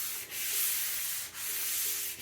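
Rhythmic back-and-forth rubbing of sandpaper on a wet surface, a soft hissing scrape with brief dips between strokes, close and steady.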